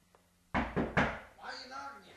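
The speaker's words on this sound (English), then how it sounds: "Why are you knocking, you half-wit?" Three sharp knocks on a door in a video game, close and loud in quick succession, followed by faint game sounds.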